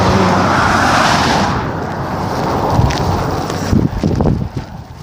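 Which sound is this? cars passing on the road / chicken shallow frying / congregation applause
cars passing on the road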